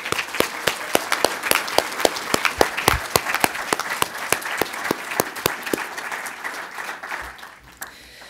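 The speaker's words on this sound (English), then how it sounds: "So can we please give them a round of applause?" A conference audience claps for the event's sponsors in a warm, sustained round of applause with distinct individual claps that gradually thins and fades out near the end.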